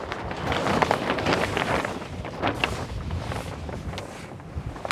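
Strong wind buffets the microphone and rumbles outdoors where tarps are being handled, a loud, continuous gusty roar with faint rustling and flapping bursts and no clear talk.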